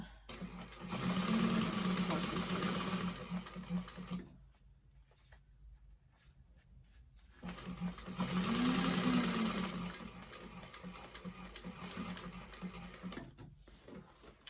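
A sewing machine stitches over a tote bag's lining pocket in two steady runs of rapid mechanical whirring, each lasting a few seconds, separated by a quieter pause with handling noise.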